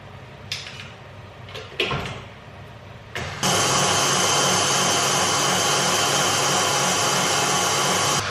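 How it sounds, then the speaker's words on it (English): An electric mixer whips an egg mixture for a giant lamington sponge, starting after a few bumps and clicks and then running as a loud, steady whir close up. "we're basically just going to whip this up until it is really, really thick and creamy"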